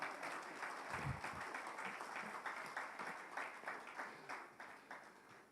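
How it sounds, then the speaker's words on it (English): Audience clapping at a live-streamed African Field Epidemiology Network event, a faint, distant patter of hands in a loose rhythm that thins toward the end. "Clap for us."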